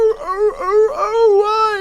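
A dog in the Pathfinder: Wrath of the Righteous video game yelps and howls as it dies, a loud, close series of rising and falling whining cries with no speech over it.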